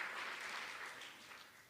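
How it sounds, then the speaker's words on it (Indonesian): A church congregation at a Pentecostal Sunday worship service in Cianjur applauds together, a dense sustained wash of clapping throughout that tapers slightly toward the end. "Mari berikan tepuk tangan buat Tuhan Yesus dulu."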